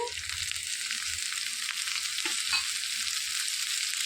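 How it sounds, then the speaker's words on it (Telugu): Washed tamarind leaves sizzle and fry steadily in hot oil, a continuous close crackling hiss with light stirring, for chutney preparation. "ఇప్పుడు కడిగి తీసుకున్న చింత చిగురు వేసేసుకోవాలి"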